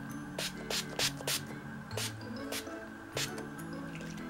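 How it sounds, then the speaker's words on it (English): A Wet n Wild All Day Wear Photo Focus setting spray bottle is pumped several times, giving short, close, hissing mist bursts at uneven intervals against a quiet room. "I'm just gonna spray a couple times."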